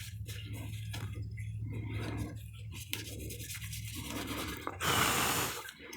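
A rag wipes water off a two-sided crazy lace agate cabochon, giving a steady soft rubbing and squeaking that swells into a brief louder, harsher scrub near the end.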